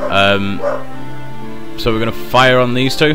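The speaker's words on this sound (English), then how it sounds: "That's my dog." A dog barks at a house door, several loud close yelps and barks in bursts at the start, middle and end, with someone talking over the barking during gameplay.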